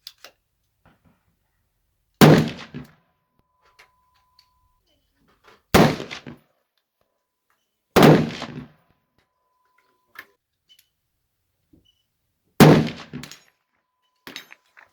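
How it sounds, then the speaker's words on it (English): Four loud, sharp rifle shots from a 300 Weatherby firing 180 grain ammunition loaded with H4831 SC powder, spaced a few seconds apart, each with a short echoing tail, plus a couple of faint clicks in between. "This is the 180 grain mead ammo in my 300 Weatherby. I'm using H4831 SC. Let's see how it shoots."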